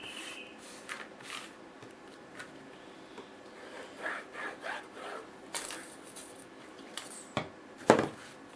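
Hands smoothing fabric or paper onto a hardcover book, soft intermittent rubbing and brushing strokes, close and quiet, ending in a sharper scrape.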